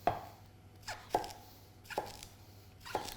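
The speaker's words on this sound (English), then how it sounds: "I'm going to chop all the vegetables into roughly the right even sizes" Four sharp knife chops strike a cutting board while chopping vegetables, at an unhurried, uneven pace, each a crisp close thud with a short ring, with quiet pauses between them.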